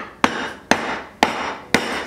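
A hammer strikes a glass candle jar wrapped in a towel, four firm, muffled blows landing about half a second apart, close and alone.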